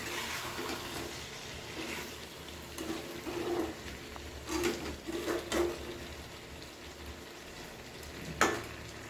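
Chicken cooking down in a pan for kosha gives a soft, low sizzle, broken by several stirring scrapes and a sharper clink near the end, with no talking.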